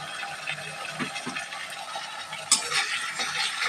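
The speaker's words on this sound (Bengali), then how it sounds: "দেখুন আমরা এখানে আলুগুলো একটু হালকা ভাজা হয়ে এসছে।" Diced potatoes fry lightly in a pan, giving a quiet, soft sizzle broken by occasional scraping stirs and small clicks.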